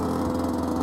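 Loud DRD enduro motorcycle engine running steadily up close, a buzzy, throbbing mid-pitched drone that fills the brief moment alone.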